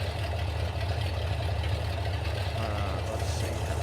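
A tractor engine idles steadily in Farming Simulator 22, a continuous low rumbling drone with a faint rhythmic knock, close and constant throughout with no talking.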